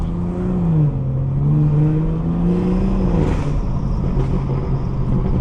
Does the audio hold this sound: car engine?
yes